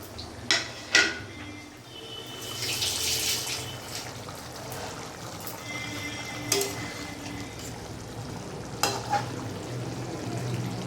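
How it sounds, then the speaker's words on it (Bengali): Potol fish slides into hot oil and fries with a continuous sizzling hiss, punctuated by a few sharp clicks and clatters from the pan, steady and close throughout. "এবার এর মধ্যে এখন এক এক করে আমি মাছগুলো ছেড়ে দেবো"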